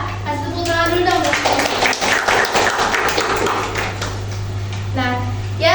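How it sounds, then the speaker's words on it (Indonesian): Students in a classroom clap together in a sustained burst of fairly loud, rapid applause, with voices talking before and after the clapping. "Kasih tepuk tangan dulu dong."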